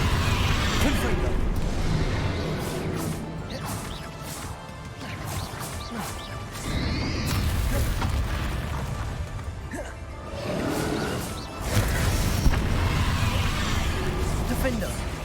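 Confringo fire spell explosions crash out in Hogwarts Legacy, loud blasts and bursts recurring through the stretch amid other combat whooshes and impacts, with a voice speaking in between.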